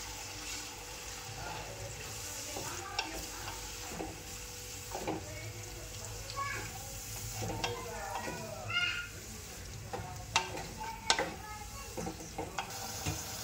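Gravy for kaju paneer masala goes into a pan and is stirred, bringing soft sizzling and frying hiss under scattered scraping, clinking stir strokes and wet splashes, moderately close and uneven in rhythm.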